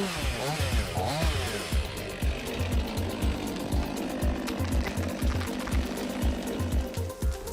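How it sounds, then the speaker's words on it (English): A Makita DUC353 cordless chainsaw cuts through wood, giving a steady, loud buzzing drone with rapid rhythmic pulsing that carries on without a break. "the Makita DUC353 chainsaw boasts outstanding cutting ability, effectively handling different sizes of wood"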